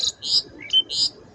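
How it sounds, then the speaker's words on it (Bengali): A bird gives a short series of about four bright, high chirps in quick succession, close and clear against a quiet background. "পাখি আবার কথা বলছে।"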